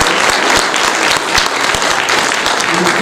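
An audience at a STEM education conference breaks into loud, sustained applause, many hands clapping densely throughout.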